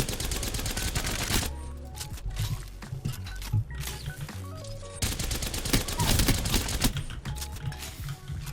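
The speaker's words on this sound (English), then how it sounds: "Now with the Havoc, you do get a bit of a wind up beforehand" Havoc energy rifle from Apex Legends firing in fast, dense automatic bursts with a short break near the middle, loud and continuous over game music and sound effects.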